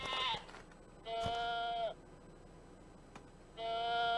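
Sheep bleating in the farming video game Ludus: three drawn-out bleats, fairly close and clear, separated by short quiet gaps.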